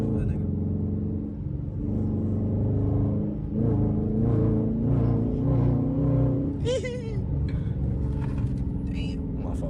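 A Dodge Charger Scat Pack in sport mode pulls hard with a loud, rising engine roar and a brief tire squeal near the end, close up from inside the car while several people talk over it.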